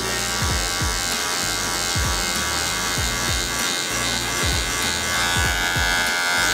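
A Wahl electric hair clipper buzzes steadily and close up during a skin fade haircut, its hum broken by a string of short sharp pulses as it passes through hair.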